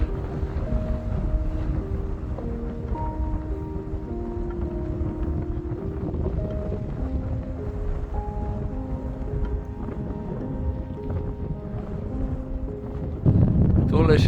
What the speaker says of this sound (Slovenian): Kar piha.